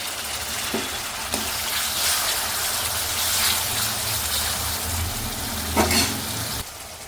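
Tomatoes dropped into a pan of frying peanuts give a steady, close hiss and crackle of hot oil, with a few louder spatters and stirring scrapes and no voices.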